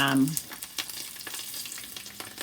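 Fish fries in hot oil flavoured with garlic, thyme and Scotch bonnet pepper, giving a steady close crackle and sizzle with scattered pops, and a brief clatter at the start.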